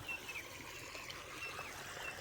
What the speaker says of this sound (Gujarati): પાઇપની રિંગ આવે ને એ નીકળી ગઈ એટલે અહીંથી પાણી આપણે લીકેજ થાય